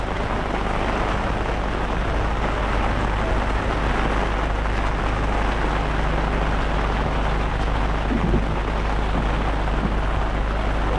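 Heavy rain pours at sea around a small fishing boat, a dense steady hiss and roar with a low rumble beneath, loud and unbroken throughout with no voices.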